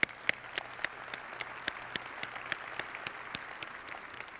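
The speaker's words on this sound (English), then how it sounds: "give these guys a round of applause?" Applause from a conference audience at Red Hat Summit 2017, steady and fairly faint with scattered sharper individual claps standing out, no talk over it.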